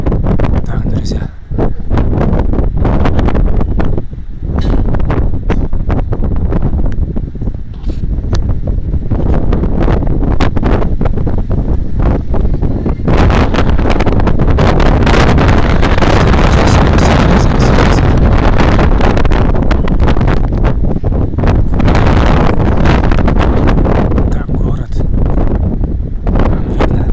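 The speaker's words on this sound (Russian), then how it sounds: "ветер продолжается" Strong wind blowing on the Black Sea coast at Novorossiysk in the evening: loud, continuous gusting roar buffets the microphone for the whole stretch, with surges and brief lulls.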